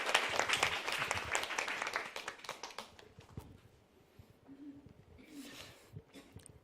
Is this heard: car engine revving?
no